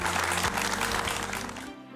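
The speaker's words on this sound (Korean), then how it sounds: "최영옥 씨에게 다시 한번 큰 박수 부탁드립니다" A studio audience on a Korean TV talk show claps for a classical music guest, with dense applause over a low musical tone that ends abruptly into near silence.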